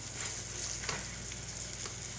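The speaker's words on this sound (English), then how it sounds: "once it's heated, you can just test and see, make sure everything is sizzling" Food fries in a pan on a stovetop over medium heat, a steady close crackling sizzle with small pops and no voices.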